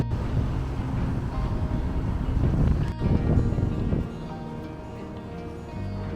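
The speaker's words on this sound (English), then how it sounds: "So windy today." Strong wind gusts buffet the microphone on the South West Coast Path near Exmouth Beach, heading toward Orcombe Point, a loud steady low roar that eases after a few seconds.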